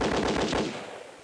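A rapid burst of about nine gunshots fires in quick succession from a weapon in the video game Sam & Max Hit the Road, loud and close, then cuts to a short fading tail.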